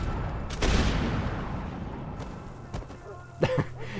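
In the Max Payne 3 video game, a double-barrel shotgun blast booms and rolls off into a long decay, followed by a few sharper, quicker Uzi-style cracks near the end, loud against the game's background noise.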